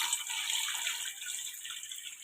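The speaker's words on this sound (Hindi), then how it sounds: "ये मैंने पानी डाल दिया।" Water poured into a cooking pot holding desi chicken, a steady hissing splash that stays close and fairly even throughout, with no talking.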